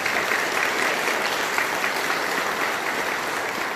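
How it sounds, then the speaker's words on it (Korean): Applause from a temple congregation for a newlywed couple, a dense, steady patter of many hands clapping continuously at moderate distance. "우리 한 쌍의 신혼부부에서 축하의 박수 부탁드리겠습니다"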